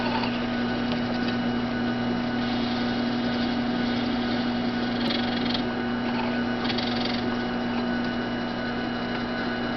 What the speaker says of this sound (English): I'm going to drill my tang hole in the back.